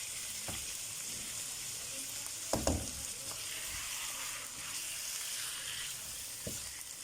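Ginger and garlic paste fries in a pot for achar gosht, a steady close sizzle broken by a few soft stirring knocks, with no talking.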